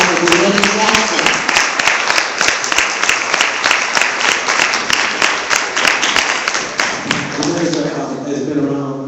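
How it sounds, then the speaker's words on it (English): Applause for a woman receiving a Public Agency Advocate Award at a ceremony, steady dense clapping from a crowd filling the room for several seconds, with voices beginning to talk over it near the end. "Please give a wonderful round of applause for Danetta Jackson."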